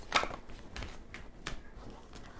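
A few short riffling bursts of tarot cards being shuffled by hand, quiet and close, with brief pauses between the soft flutters.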